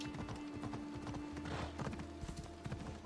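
A horse in Assassin's Creed Odyssey trots along with steady, rhythmic clip-clopping hooves, close and clear over a constant game ambience with a low hum.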